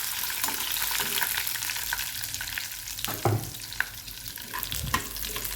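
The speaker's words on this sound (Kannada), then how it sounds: "ಕಡಲೆಬೇಳೆನ ಸ್ವಲ್ಪ ಎಣ್ಣೆಯಲ್ಲಿ ಫ್ರೈ ಮಾಡ್ಬೋದು" Chana dal frying in a little oil during home cooking for a lunch recipe, a steady crackling sizzle with occasional louder stirring scrapes, heard alone at close range.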